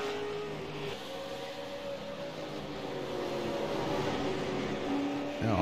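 A race car crossing the start-finish line during a race, its engine droning steadily with a gradually rising pitch and loudness as it approaches, heard at moderate distance.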